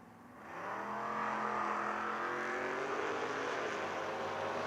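Drag race at a footbrake event between a 1993 Fox Body Mustang and a 1964 Ford Falcon: loud engines roar at full throttle, rising steadily in pitch as the cars accelerate down the strip, sustained and close.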